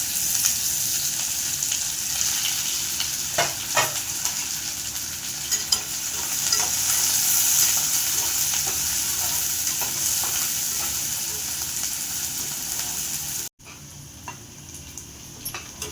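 Chopped onion frying in hot oil with cumin seeds, a steady bright sizzle with scraping spoon strokes stirring the pan, continuous and close, briefly cutting out near the end.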